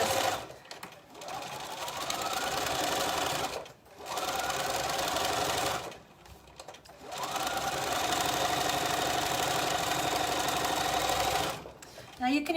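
Sewing machine stitching a long row of a summer skirt with an elasticated waistband, running in three sustained bursts separated by short pauses, steady and fairly close, with no talk.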